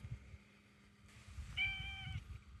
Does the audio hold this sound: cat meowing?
yes